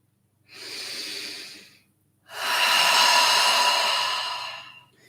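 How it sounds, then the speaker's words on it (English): Two deep breaths during a seated yoga practice, a shorter inhale followed by a long, full exhale, close and breathy with a quiet pause between, no talking. "let's take 3 breaths together"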